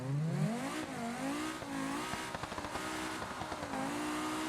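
Audi S8 in BeamNG.drive launching hard, its engine note climbing steadily in a loud, close roar with rising pitch sweeps through the gears and brief tire chatter, no voices over it.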